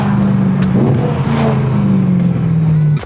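A BMW E90 M3 with its S65 V8 and muffler delete revs hard during a burnout, a loud sustained roar holding steady pitch for about three seconds before cutting off abruptly.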